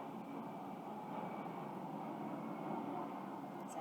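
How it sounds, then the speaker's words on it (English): A distant airplane passing overhead makes a steady, low, broad drone that holds evenly throughout, with no talking over it. "I think there's a plane going overhead,"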